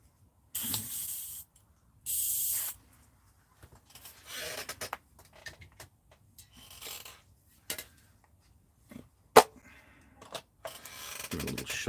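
A spray gun in a workshop gives several short, loud bursts of hissing spray, each around half a second to a second long, separated by quieter clunks and handling noises, with one sharp click near the end.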